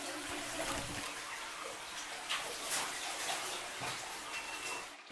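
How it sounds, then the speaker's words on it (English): A cave stream trickles and splashes steadily in High Pasture Cave on Skye, beneath white marble passages, as a soft, continuous watery rush with faint bright tinkles throughout. "with the gentle tinkling sound of the stream in the distance"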